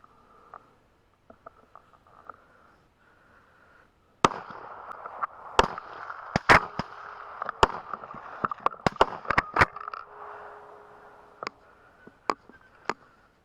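A rifle fitted with a Thermion XP50 thermal scope fires outdoors, giving sharp, loud cracks that repeat irregularly after a quiet stretch, each one ringing briefly over a faint background drone.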